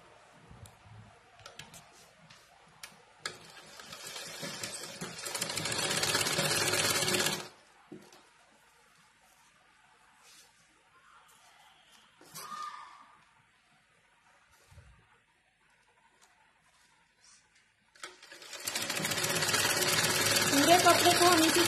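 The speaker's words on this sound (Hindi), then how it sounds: "अब इसे हम उल्टा करके ऐसे यहाँ पे सिलाई चलाएंगे, जिससे इसका लुक फिनिशिंग आएगा।" An electric sewing machine stitching saree fabric made from an old lehenga, running in two long steady whirring bursts separated by a quieter stretch of small clicks and handling noises, close and moderately loud.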